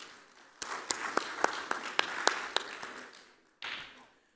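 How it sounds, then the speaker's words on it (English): Conference audience claps sparsely, with a handful of distinct, spaced hand claps in a loose rhythm followed by a brief burst of fuller clapping at the end, fairly faint in a quiet room. "Let us give him a round of applause."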